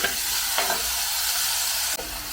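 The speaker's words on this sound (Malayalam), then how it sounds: "തക്കാളി ഒന്ന് വഴന്ന് വരണം." Tomatoes, onions and green chillies sauté together in a pan, producing a continuous close hissing sizzle with a couple of brief scrapes as they are stirred.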